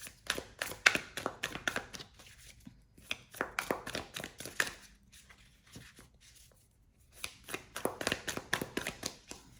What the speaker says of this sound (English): give it a knock, which clears any energy from previous readings